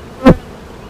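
A honeybee buzzes loudly past at close range by a backyard beehive in June, one short swelling-and-fading drone against quiet surroundings.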